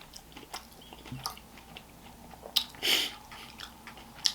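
Crunchy Birthday Cake Pebbles cereal is chewed close to the mic in a mukbang, with soft irregular crunches and wet bites and one louder crunch near the end, and no talk.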